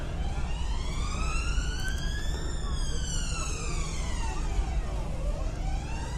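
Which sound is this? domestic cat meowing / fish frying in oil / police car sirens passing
police car sirens passing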